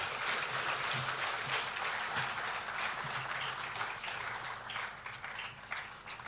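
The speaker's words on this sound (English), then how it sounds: "Oh, please, a round of applause." Steady applause from a crowd fills the room at a swearing-in ceremony for new security chiefs, dense clapping that holds at an even level and slowly thins toward the end.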